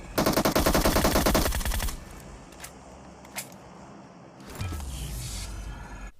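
Rapid automatic gunfire rattles loudly in a PUBG-style battle game, a dense burst lasting about two seconds, followed by a few isolated single shots and a low rumbling engine-like drone near the end.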